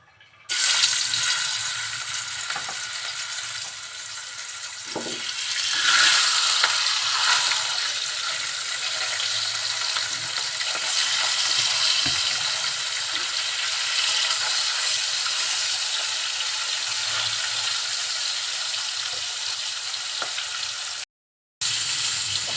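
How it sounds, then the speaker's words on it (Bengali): Pieces of rohu fish frying in hot oil in a pan, a loud dense continuous sizzle that swells as the fish goes in and holds steady, cutting out briefly near the end. "তেলটা গরম হয়ে গিয়েছে এখন মাছগুলো দিয়ে দিচ্ছি"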